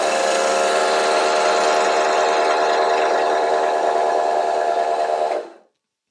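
Drill fitted with a circle cutter bores into a clamped wooden block, a loud steady whining grind held for about five seconds before stopping abruptly.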